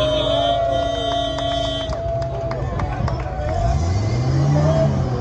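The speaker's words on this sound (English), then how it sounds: "watch the cars go in and out of the water." Amphibious car engines rumble and rev as they drive into and out of the water amid outdoor crowd noise at Disney Springs, Florida, with a vehicle accelerating toward the end.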